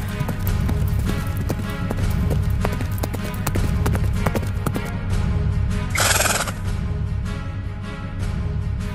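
Horse hooves clip-clop in a steady, fairly loud rhythm at the edge of a forest in an animated Vietnamese folk tale, with a whinny-like burst partway through over a constant low background.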